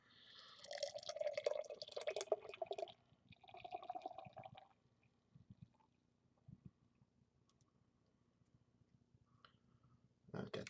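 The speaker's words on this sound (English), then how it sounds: "let's give it a pour" Southern Tier Pumking Nitro beer pours from a 16-ounce can into a glass, giving a soft, faint gurgling and splashing for a few seconds, followed by quiet drips and a brief louder sound at the end.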